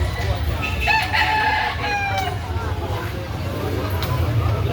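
A rooster crows loudly nearby, with chickens clucking around it amid a noisy outdoor crowd and people talking, at a poultry market in Carbon, Cebu City.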